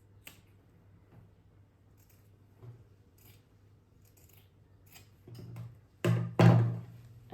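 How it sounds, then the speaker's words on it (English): Scissors snip a fabric corner while cutting a strapless top sewing pattern: a few faint ticks, then two louder, close crisp cuts near the end in a quiet room. "I'm going to cut the corner"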